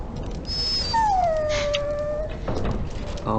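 A dog whimpers and whines in the Dragon Age: Origins video game, making a long, high, drawn-out whine that falls in pitch, with a short yip before it and game ambience underneath.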